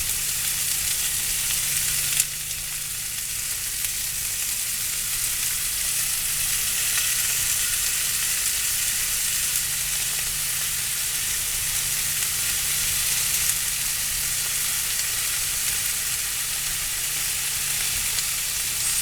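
Vegetables spread in a hot skillet that has been switched off sizzle and crackle steadily and evenly for the whole stretch, close and alone with no talk over them.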